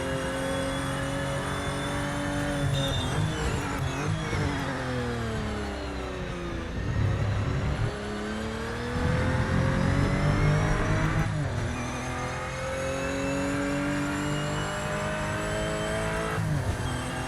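Race car engine in the Project Motor Racing video game, a continuous loud drone that climbs and drops through gear changes as the car accelerates and brakes around the track, with no talk over it.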